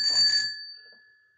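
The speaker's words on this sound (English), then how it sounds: "I'm ringing the bell." A single bicycle-style bell struck once, bright and close, its clear ring decaying over about a second in otherwise quiet surroundings.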